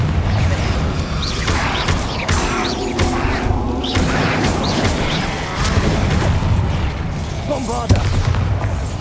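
Confringo fire-blast spells explode in the Hogwarts Legacy game: repeated booming blasts and crashes over dense, loud combat noise, with a character's voice heard at moments.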